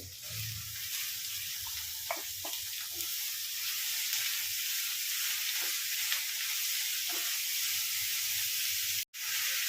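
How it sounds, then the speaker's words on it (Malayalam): Chopped mushrooms for a Kerala mushroom thoran sizzle in a pan, a steady, moderately loud frying hiss with a few faint stirring knocks, briefly cut off near the end. "ഇതിലേക്ക് അരിഞ്ഞു വെച്ചിരിക്കുന്ന മഷ്റൂം ഇട്ട് കൊടുക്കുന്നത്"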